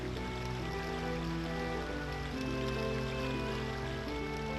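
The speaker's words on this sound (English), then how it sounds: "And as you can tell, the waterfall, goes back down again." Steady rushing roar of the waterfall near Zora's Domain in The Legend of Zelda: Ocarina of Time, a loud continuous water wash with tonal game music layered over it and no voices.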